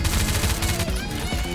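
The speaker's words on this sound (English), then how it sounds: "I just shot him in the head!" Rapid gunfire in the online shooter Phantom Forces, dense and continuous bursts packed close together with game noise throughout, no clear gaps between shots.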